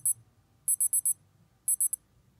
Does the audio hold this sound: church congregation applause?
no